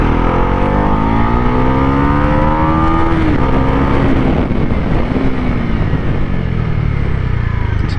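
A Bajaj NS 400 motorcycle accelerates hard, its engine note climbing through the revs in loud, close rising sweeps, dips briefly at a gear change, then climbs again over constant wind noise.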